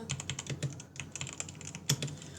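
Brisk typing on a computer keyboard, a quick, uneven patter of small key clicks at close range with one louder keystroke near the end and no voices.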